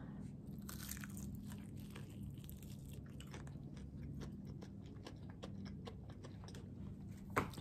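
Someone bites and chews a crunchy extra spicy Popeyes chicken wing close to the mic, with crisp crackling snaps repeating irregularly over a steady low background hum.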